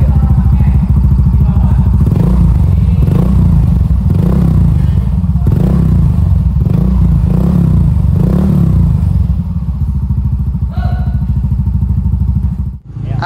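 A Yamaha Xeon motorcycle engine idles loud and close after a major service, a steady low rumble with rhythmic clattering pulses, settling and dipping near the end.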